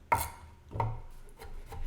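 Knife chopping mushroom stems on a board while making mushroom gravy, a few quiet separate cuts, two clearer strikes followed by softer taps, close up with no speech.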